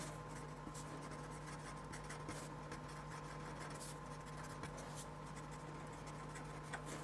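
Pen or pencil writing on paper during a maths answer, a faint steady scratching that runs continuously under a low hum of background noise.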